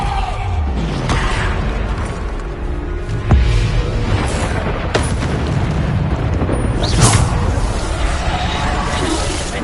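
Bombarda spell explosions in the video game Hogwarts Legacy crash amid a dense, noisy battle mix, with a few sharper booms standing out from the constant rumble.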